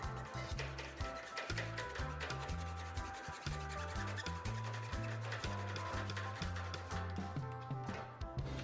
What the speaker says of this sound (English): I'm just going to use a hacksaw to cut this off.